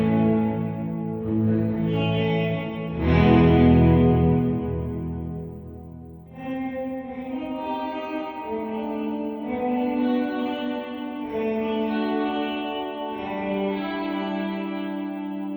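An Alexander Space Force reverb pedal on its upper detune setting, with shimmering pitched guitar notes washing into a dense, swelling reverb tail with chorus-like detuned layers, sustained and loud with no voices.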